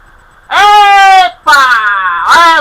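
A woman gives two long, loud, sustained screams, the second wavering and rising again at the end, with no other talk.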